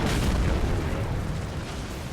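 A volley of explosions fired by giants in Elden Ring, a dense, loud rumbling boom that fills the whole moment with little break.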